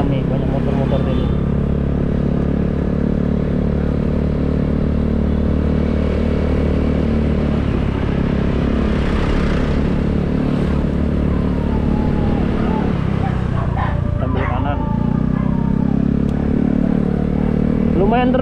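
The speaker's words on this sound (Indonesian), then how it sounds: "makanya rame, banyak motor-motor ini" Many motorcycles crowd a field after a football game, engines idling and revving continuously and loudly nearby while someone talks over them.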